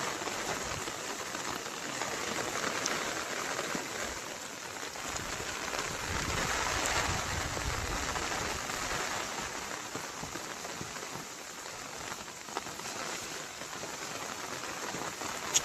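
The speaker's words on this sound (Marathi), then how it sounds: "पाऊस पण लागतोय भरपूर" Heavy monsoon rain pours steadily beside a coastal creek in the Konkan countryside, a dense continuous hiss of drops on surfaces with no voices.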